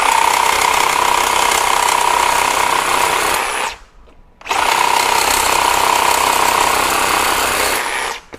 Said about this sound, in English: Even though I'm cutting through steel and it's trying to grab at every, little tooth